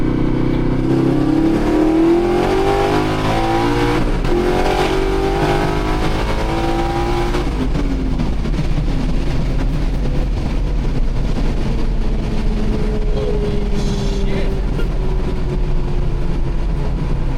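An S-10 project truck accelerating hard from inside the cab, its engine roaring loud and climbing in pitch through the gears with a shift partway through, then sustained rough road and engine noise.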